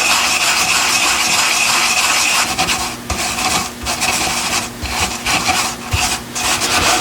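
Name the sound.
compacting petrobond casting sand around a bronze sword guard pattern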